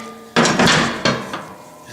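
Two sharp metallic hammer strikes on a punch driving a part of a Fairbanks Morse 3HP ZC engine, close and loud with short ringing decay, the second blow following about two-thirds of a second after the first.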